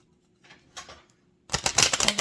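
Stiff, rarely used tarot cards of good material being shuffled, first a few soft riffles, then a loud, close, rapid run of snapping, flapping card sounds, with no talk.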